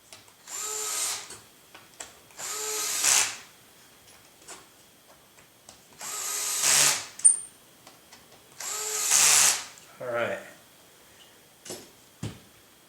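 A power drill runs in several short bursts, tightening self-tapping fasteners on the boom of a 550L build, with brief pauses and small clicks between the whirring pulses, up close and clear.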